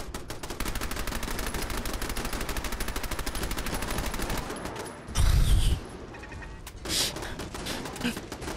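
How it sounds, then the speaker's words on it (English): Automated turret gunfire in the video game Fallout 4, a rapid, continuous rattle of shots for about five seconds, then a heavy thud and a few scattered bursts, with no talking over it. "He's getting shot by a turret."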